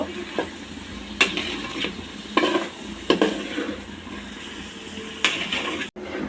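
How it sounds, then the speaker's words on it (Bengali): Chana dal and spices are stir-fried in a pan under a low sizzle, with a few distinct scraping strokes of the spatula spaced a second or so apart, close up, and no speech. "আমি বুটের ডালটা দিয়ে দিচ্ছি তো খুব ভালোভাবে কষিয়ে নেব"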